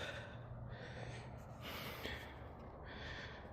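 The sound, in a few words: heavy breathing during a steep hike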